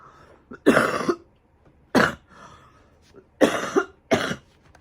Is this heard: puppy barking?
no